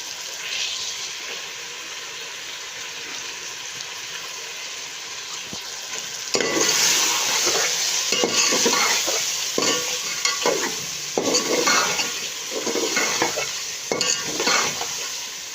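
Bitter gourd and chicken fry with ground coriander and chili in a karahi, a steady sizzle that grows louder midway as a spoon stirs and scrapes the pan in repeated strokes.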